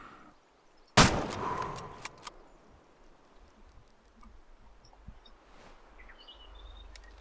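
A single rifle gunshot in a hunting video game cracks sharply once, loud and close, then rolls off in a fading echo over a quiet outdoor plains ambience with faint distant ticks.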